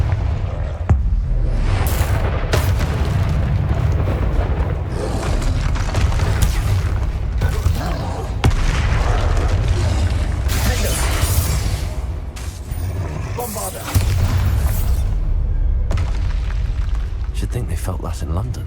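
Confringo blasting spell explosions in the Hogwarts Legacy video game, loud rumbling booms and bursts layered over a continuous, dense battle din for the whole stretch.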